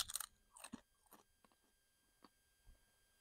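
Doritos Hot Mustard tortilla chips are chewed up close in a few sharp, crisp crunches, then softer chewing that fades into quiet.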